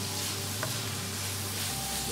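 Prawns and carrots stir-frying for pad thai, a steady close sizzle with faint scraping of stirring throughout, no talking.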